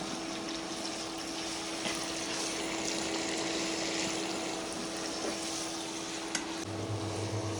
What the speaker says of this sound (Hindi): 2 से 3 मिनट मैंने प्याज फ्राई कर दिया है।